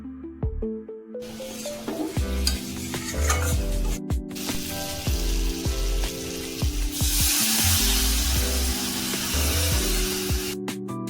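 Spicy crab curry fries with crab fat in a pan, giving a bright, steady sizzle with stirring scrapes. Tonal music plays over it, with a few brief gaps and no talking.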